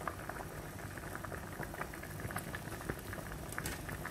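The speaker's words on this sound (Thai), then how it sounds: "ขนุนเปื่อยแล้วนะคะต้มมาได้สักพักนึง" A pot of jackfruit curry bubbles at a steady boil, a soft continuous burble of popping bubbles heard up close and fairly quiet.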